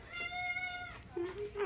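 A pet cat meows twice, the first call longer and rising then falling, the second a shorter, lower meow, close by and clear over faint room noise.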